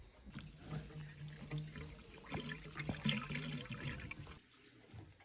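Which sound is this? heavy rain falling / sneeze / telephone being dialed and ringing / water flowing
water flowing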